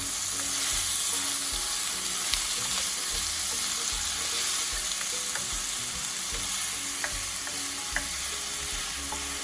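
Bitter gourd sautéing in a hot pan for Filipino ginisang ampalaya, a steady loud sizzle and crackle with occasional clicks of stirring, continuous and close with no talking.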